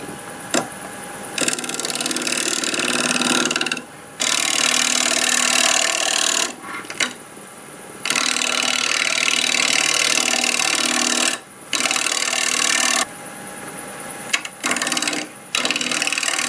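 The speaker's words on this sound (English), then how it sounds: "just try to shear scrape this down a little bit. And turn the RPM up." Shear scraping a live edge wood bowl on a lathe spinning at 1100 RPM: loud, steady raspy scraping in long passes, broken by several brief pauses where the tool lifts off, with no talking.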